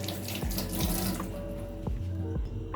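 Water runs from a kitchen tap to wet hands before shaping sushi rice, a steady, fairly quiet splashing stream with soft shifts as hands move under the flow.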